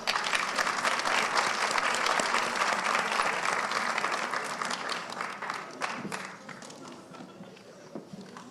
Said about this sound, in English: Please give him a hand as he comes.